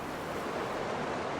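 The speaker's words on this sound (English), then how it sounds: "Nice waterfall." A waterfall in the video game Heaven's Vault gives off a continuous broad rushing roar, steady and fairly close.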